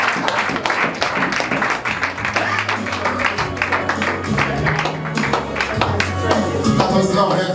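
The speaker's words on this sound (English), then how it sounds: "Put your hands together for her." Wedding guests clapping for a woman, dense continuous applause for several seconds with sharp individual claps, alongside some voices and a low tonal sound under the clapping.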